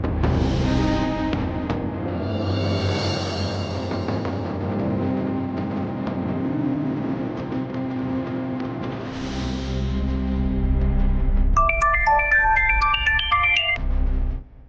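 A phone ringtone plays while an outgoing call is placed in a Kannada TV serial scene, a loud melodic ring sounding continuously for about fourteen seconds before cutting off, with no talking over it.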